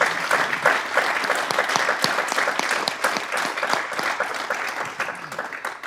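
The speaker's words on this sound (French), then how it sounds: "Je pense qu'on peut en effet applaudir Dr Desbiel." A conference hall audience applauds a speaker after an eco-anxiety lecture, a full dense wash of many hands clapping steadily for several seconds and easing slightly toward the end.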